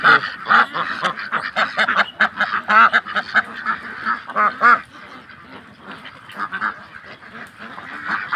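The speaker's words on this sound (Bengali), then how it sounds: "শুধু হাঁস আর হাঁস।" Many ducks on a duck farm quack loudly and close by, overlapping honking calls in an irregular, continuous chorus with no talking.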